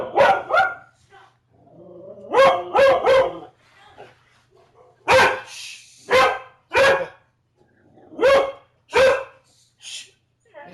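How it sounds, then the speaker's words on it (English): A dog barks repeatedly and close by in short separate bursts, a few in quick pairs with pauses in between and faint whining yips between barks. "See, even the dog's complaining about the lack of plot in this episode."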